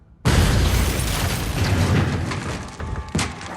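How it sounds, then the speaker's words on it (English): A sudden, loud explosive blast blows a door in and leaves a roaring rumble of debris, with a second sharp bang just before the end. "Seconds later, the door's blown in,"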